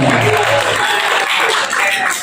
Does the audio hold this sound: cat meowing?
no